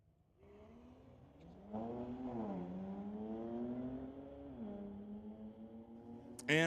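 Two BMWs at a Mission Raceway drag race, including a 2022 BMW, launch with a loud rising engine roar that climbs through the gears and holds steady, ending with a sharp burst near the close.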